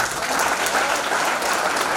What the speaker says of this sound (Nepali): ताली बजाऊ आफ्नो लागि